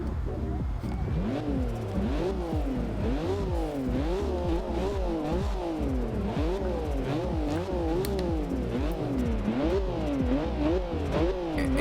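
A 2014 BMW M4 engine in the video game Forza Horizon 2 revs up and down repeatedly in a steady, wavering rhythm, with faint blow-off valve hissing bursts between the climbs, close and continuous throughout.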